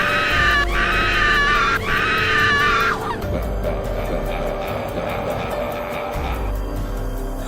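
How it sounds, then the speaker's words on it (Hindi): A woman lets out two long, loud, high screams in a row in an animated Hindi horror story, followed by a quieter eerie background drone. "तभी उसकी चीख निकल जाती है।"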